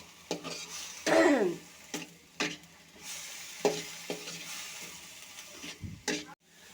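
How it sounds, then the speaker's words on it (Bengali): Radish stalks, cauliflower stalks, radish and beans frying in a pan for a mustard chorchori, with stirring scrapes and clinks of a utensil against the pan over a low sizzle. "ভাজা ভাজা করে নিচ্ছি আর এখানে নিয়েছি আমি মূলার ডাটা কপির ডাটা আর একটু মূলা সিম"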